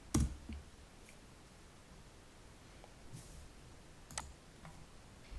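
Sparse computer mouse clicks in panorama tour software: a sharp click near the start, another around four seconds in, and a few fainter taps over a quiet, hissy room background with no talk.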